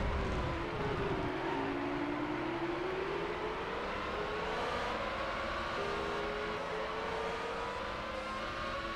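Ferrari Formula One car in the PS1 game Formula One 2000, its engine screaming steadily and loud throughout, pitch climbing and easing as it races, with other cars' whine mixed in.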